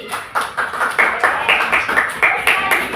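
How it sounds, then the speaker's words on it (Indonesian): Children in a grade-four classroom clap their hands together in a brisk, loud, rhythmic pattern, around a dozen evenly spaced claps in quick succession, close by and with no talking over them. "Tepuk tangan"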